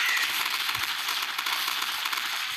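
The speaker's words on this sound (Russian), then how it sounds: "Взрывы стреляющие." A steady crackling barrage of explosion-like pops and bursts in the video game Nuclear Throne, dense and continuous, with a few deeper thumps mixed in.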